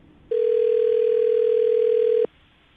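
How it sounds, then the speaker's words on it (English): Steady single-pitch telephone dial tone sounding on a line before a number is dialed, loud and unbroken for about two seconds, then stopping abruptly. "I'm going to dial this phone number right now and see if he picks up"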